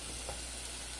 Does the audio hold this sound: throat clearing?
no